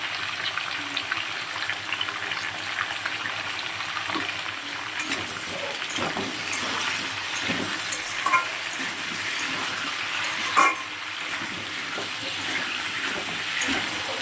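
Vegetables fry in a pan for a home lunch, a soft continuous sizzle with scattered spatula stirs and clinks throughout, close and unaccompanied by talk.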